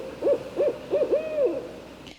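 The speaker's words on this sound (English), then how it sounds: "It's only an owl with her babies." An owl with her young in a nest high in a tree hoots about four times in quick, rhythmic succession, the calls clear and fairly close in quiet surroundings.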